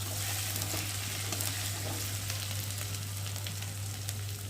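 Garlic paste fries in hot oil with a steady, close crackling sizzle, heard alone with no talk over it.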